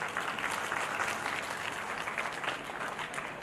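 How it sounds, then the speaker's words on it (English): Steady applause from a conference audience at a valediction ceremony, an even wash of many hands clapping throughout, fairly distant and moderate in level, with no one speaking. "Please give her a warm round of applause."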